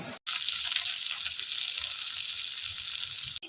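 Small taro pieces fry in hot oil with a steady, close, bright sizzle that runs without a break, cut only by two brief dropouts near the start and end.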